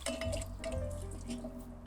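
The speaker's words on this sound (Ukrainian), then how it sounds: "Заливаємо картоплю з водою сюди." Water poured from a container onto potatoes in a pot on a Kamado-style ceramic grill, a close, steady splashing and trickling pour that runs for about two seconds with a low rumble beneath.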